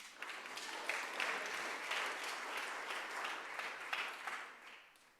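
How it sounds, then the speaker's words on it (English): Applause fills a school honors ceremony, a steady crowd clapping that holds evenly for about five seconds and then eases off, with no voices rising above it. "we can applaud Shreya"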